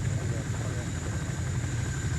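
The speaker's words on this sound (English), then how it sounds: "land, ping Zeus for new heli" A helicopter in a military video game training operation gives a steady, droning rotor and engine hum that holds evenly throughout, with a voice speaking over it.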